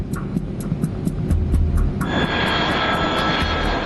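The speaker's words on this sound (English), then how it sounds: "Flight 6560 begins its final approach to the runway." First Air Flight 6560, an airliner on final approach to the runway, gives off a loud, steady engine roar. Partway through, a high whine joins in over a throbbing low rumble, with faint rhythmic ticking in the background.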